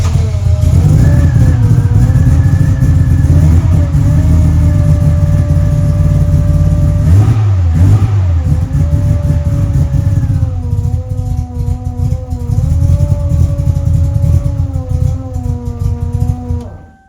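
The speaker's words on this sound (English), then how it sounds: "let's try to start the car and see what happens." A Subaru engine runs loud and steady for the whole stretch, a fuel pump whining noisily on top, with a brief rev dip midway before settling back to idle.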